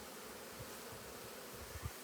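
Carpathian honey bees of a Prikarpattian ecotype buzzing at an open hive, a steady soft drone of many insects with a few closer wingbeat passes, faint and continuous.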